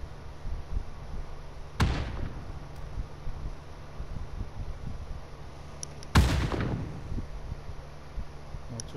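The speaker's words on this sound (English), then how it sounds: "They're just chucking grenades." Two distant grenade explosions in PUBG land several seconds apart, each a sudden sharp blast with a short decaying rumble over a steady low background hum.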